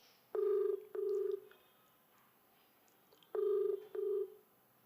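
A phone call rings out with two pairs of electronic ring tones, each pair a quick double buzz, heard clearly over quiet background hiss with no talking.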